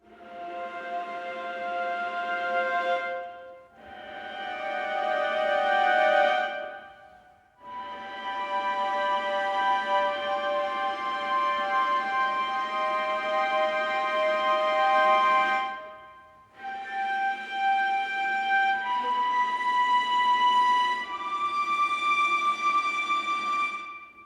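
Sustained high, glassy viola harmonics from the CineStrings CORE sample library in several long held phrases separated by short gaps, airy and soft, with no voices.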